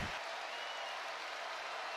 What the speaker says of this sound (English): Crowd is loud here at the field house